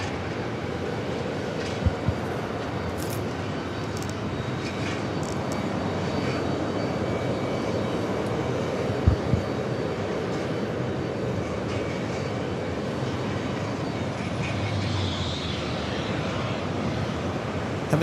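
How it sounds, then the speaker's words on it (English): A Boeing 787-8 Dreamliner of Uzbekistan Airways taxis at JFK airport, its engines giving a steady, loud broadband rumble and whine that holds evenly throughout with faint distant thumps. "Uzbekistan Airways Flight 102. It's a 787-8 Dreamliner now starting this taxi."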